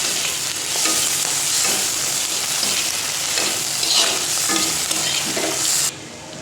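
Onions and cleaned fish fat frying in oil, a loud continuous close sizzle with repeated stirring scrapes that drops off abruptly near the end.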